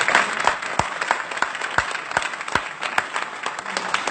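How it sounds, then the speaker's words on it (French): Congregation at a church service applauding after a sermon, a steady wash of many hands clapping at moderate volume with a few sharper individual claps standing out. "Il faut l'acclamer ici"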